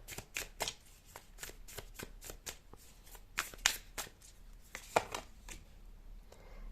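Tarot cards shuffled during a pick-a-card reading, a quick series of crisp riffling snaps and slaps in irregular bursts, close and clear, with no talking.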